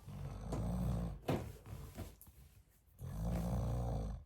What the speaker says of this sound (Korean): 채널 주인장이 잠이 들었습니다 코 고는 소리 들리시나요?